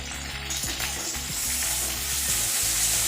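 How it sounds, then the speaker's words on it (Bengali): Garlic dropped into hot oil, a loud close sizzle that swells and stays dense, with soft stirring scrapes underneath. "তেলের মধ্যে রসুনটা দিয়ে দিলাম।"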